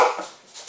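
A dog barks once up close and loud, a single sharp bark that tails off quickly, heard alone with no talking.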